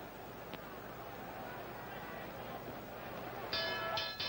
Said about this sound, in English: And as the bell sounds